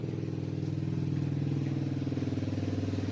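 A noisy motorcycle engine chugs steadily nearby, its rapid, pulsing putter holding an even pace throughout.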